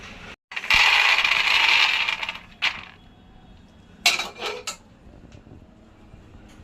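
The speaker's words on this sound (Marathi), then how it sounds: "आता आपण गॅस बंद करूया आणि शेंगदाणे काढून घेऊया" Roasted peanuts are scooped out of a pan with the stove off, a bright rattling clatter of nuts on metal in a couple of close, loud bursts separated by quiet.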